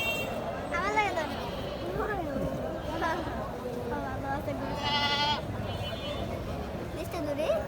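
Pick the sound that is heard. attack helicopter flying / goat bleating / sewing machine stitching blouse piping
goat bleating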